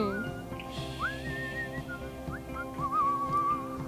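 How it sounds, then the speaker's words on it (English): Someone whistles a tune alone, a clear melodic line with short rising slides and a sustained wavering phrase over a low background murmur. "you probably heard someone whistling that song since this summer"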